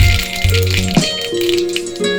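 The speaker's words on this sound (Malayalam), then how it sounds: "ഇതിലേക്ക് നമുക്ക് കടുക് ചേർത്ത് കൊടുക്കാം" Mustard seeds crackle and pop in hot coconut oil as a moong bhaji is made, a close, busy rattle of small snaps over a continuous background hum.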